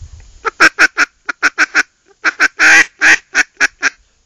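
A Foiles Timber Rattler duck call gives a series of short, soft honking quacks in quick rhythmic bursts, close and clear with no other sounds.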